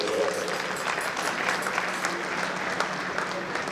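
Sustained applause from a large audience of eminent guests greeting itself at a Nigerian centenary celebration gathering, dense and steady clapping filling the hall throughout.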